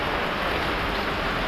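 Heavy rain pours down in a dense, unbroken hiss that fills the whole short moment, loud and close, with no voices.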